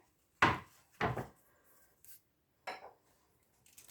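Browned meat for chilli con carne goes back into a cooking pan in a few quick scrapes and clatters, utensil against metal, four distinct close hits separated by silence.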